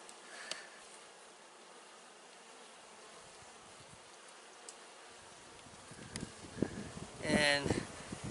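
Soft buzzing of honey nurse bees close by on a brood frame from a hive, with faint rustling and handling noises and a brief voice-like burst near the end.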